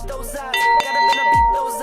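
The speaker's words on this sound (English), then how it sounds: "It's time for the ringing. The ringing of the cowbell." A cowbell rings in a few clanging, resonant strikes amid a musical backdrop, loud and close.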